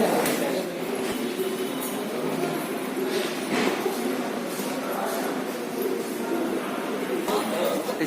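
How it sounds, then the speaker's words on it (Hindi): Ambience at Dehradun railway station: a train rumbles and clanks nearby with occasional metallic clinks and faint wheel squeal, while a person talks over the station noise. "तो यह है देहरादून का रेलवे स्टेशन।"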